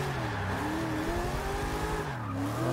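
Tires squeal and skid as a car drifts in Forza Motorsport 6, with the engine droning underneath and the pitch rising and falling in a steady, continuous screech.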